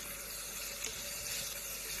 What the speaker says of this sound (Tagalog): Hugasan siya ng maigi ng tubig